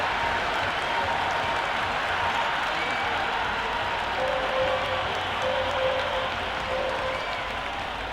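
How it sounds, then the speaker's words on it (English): Stadium crowd at an IPL cricket match roaring after a big shot, a broad, sustained wash of cheering and applause that stays loud and even throughout, with no clear voices standing out. "The crowd are loving it."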